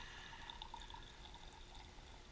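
Urethane reducer is poured into a bed epoxy mix for a 1996 Chevy truck bed, a faint, thin trickle of liquid with small drips, alone and close.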